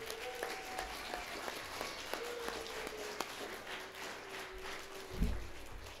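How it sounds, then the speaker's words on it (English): Applause from an audience at a church awards night, a light, moderately distant clapping with scattered voices, a few footsteps and a louder thump near the end. "I just want another round of applause for all the hard work that was done tonight."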